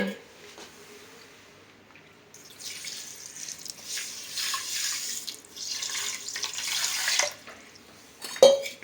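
Water pours into a pot of sugar to make syrup, a gushing splash that starts after a quiet moment and runs steadily for several seconds, with a brief metallic clank at the end.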